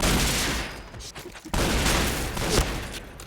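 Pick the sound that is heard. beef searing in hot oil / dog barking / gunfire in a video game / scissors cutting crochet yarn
gunfire in a video game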